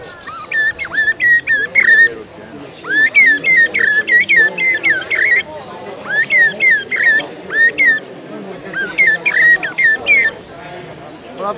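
A man at a hunting festival in Saint-Andiol imitates a blackbird's song by whistling, in several bursts of fluttering, warbling phrases separated by short pauses, clear and close.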